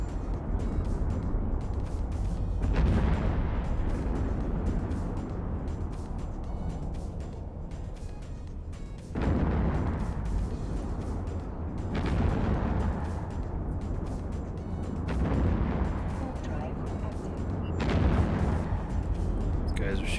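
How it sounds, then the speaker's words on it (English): Enemy ships fire on the player in the EVE Online video game: heavy booming shots land every few seconds over a low rumbling bed, loud and continuous for about twenty seconds. "These guys are shooting at me."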